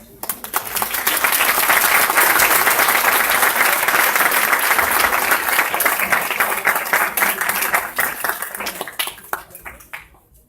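A seminar audience at a criminal-sciences institute breaks into a round of applause that swells quickly, holds dense and loud for several seconds, then thins to scattered claps and fades out.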